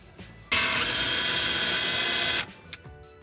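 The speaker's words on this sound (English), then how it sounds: "it's time to drill a pilot hole" A power drill runs in one steady burst of about two seconds, close and loud, then cuts off, followed by a small click.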